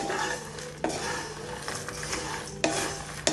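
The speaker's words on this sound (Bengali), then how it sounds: "দু মিনিট ভালো করে আমি রোস্ট করে নেবো বাদামগুলো" Nuts and grains being dry roasted in a pan for homemade baby cereal, with a utensil scraping and stirring continuously, a dry rustling hiss punctuated by a few sharper knocks against the pan.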